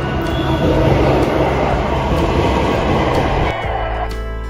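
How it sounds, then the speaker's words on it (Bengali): A Delhi Metro Yellow Line train rolls in with a loud, steady rumble, then slows and quiets as it comes to a stop. "আমার ট্রেন এসে গেছে।"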